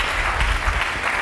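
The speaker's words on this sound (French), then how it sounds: "Est-ce que nous pouvons acclamer très fort?" An audience claps and cheers in a dense, steady burst of applause that holds at a constant level for the whole moment.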